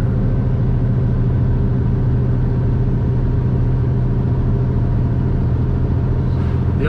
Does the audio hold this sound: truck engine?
yes